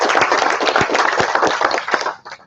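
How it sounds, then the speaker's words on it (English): Audience applause for a presenter at a professional development final-presentations event, loud and close, a dense burst of many clapping hands that tapers off at the end. "So let's give Chinma a nice round of applause."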